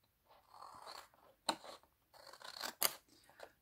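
Scissors cut out a paper rectangle for a small scrapbooking box, with a few close, crisp snips and rustles of paper between them.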